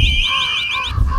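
Crows cawing in the video game Ayre, a run of loud, close, rhythmic harsh caws one after another with no talk over them.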